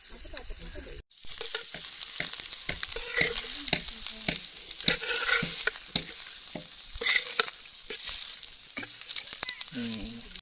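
Semolina-coated fish frying in hot oil gives a loud, dense close sizzle with crackling bursts and bubbling that keeps going after a brief cut near the start, with no speech.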